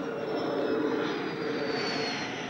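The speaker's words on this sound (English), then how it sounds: "A Yakovlev's aerobatic airplane is in the air." A Yakovlev aerobatic jet airplane flies overhead with a steady, loud engine roar and a whistling tone that slowly shifts pitch across the pass, with no voices.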